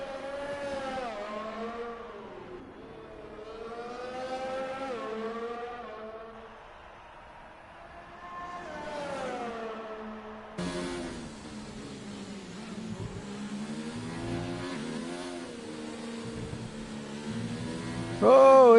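Race car engine droning at high revs through a straightaway lap of the F2 series at Abu Dhabi in a PS4 racing game, a steady pitched whine with gear shifts and a louder, rougher stretch near the end.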